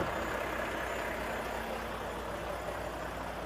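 A 2020 Mack Anthem 64T semi truck idles steadily nearby, a continuous low diesel rumble with a faint whine, unchanging throughout with no talk.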